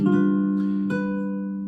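A single G dominant seventh chord strummed on guitar and left ringing, with a light second touch midway as the notes slowly fade.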